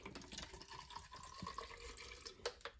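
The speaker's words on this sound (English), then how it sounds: "Then we add our water to it." Water is poured onto kenkey in a blender for Ghanaian mashed ice kenkey, a faint trickling and splashing with small drips and clinks close by.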